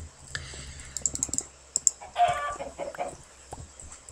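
Minecraft chickens cluck in short, scattered bursts over steady keyboard clicking and mouse taps during a German-language game session.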